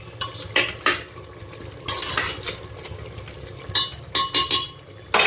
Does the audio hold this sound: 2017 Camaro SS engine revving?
no